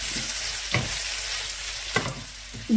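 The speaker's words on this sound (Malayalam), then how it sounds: "ഇനി തുറന്ന് തന്നെ വെച്ച് നമുക്ക് ഒന്ന് പതുക്കെ ഇടയ്ക്കൊക്കെ ഇളക്കി കൊടുക്കാം." Potato pieces with white sesame seeds fry in an open pan, a constant close sizzle broken by three quick scraping stirs of a spoon against the pan.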